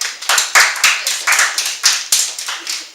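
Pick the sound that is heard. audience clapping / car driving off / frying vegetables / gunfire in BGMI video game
audience clapping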